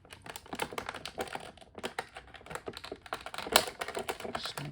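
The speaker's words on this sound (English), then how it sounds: "Let's go ahead and get them out of the plastic so we can get a better look." Dense crinkly clicking and rustling, close and steady, as the weapons of a Marvel Select Blade action figure, including a silver blade, are pulled free from plastic packaging.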